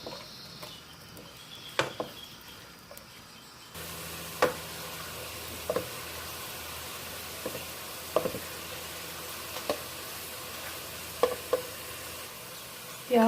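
Chopped onions frying in oil for mutton pulao, a soft steady sizzle that turns louder partway through, broken by occasional sharp clicks of a spoon stirring against the pot, with no talking.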